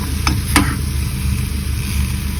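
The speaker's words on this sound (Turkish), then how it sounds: "Bunu güzel şöyle azıcık soteleyeceğim" Grated garlic sautéing in olive oil in a pan, a steady low sizzle with a couple of brief clinks near the start, heard close and alone with no talking.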